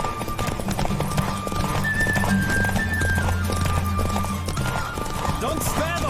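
Horse hooves clip-clop at a gallop during a race in The Witcher 3: Wild Hunt, a fast steady rhythm with a brief whinny, under a voice calling out.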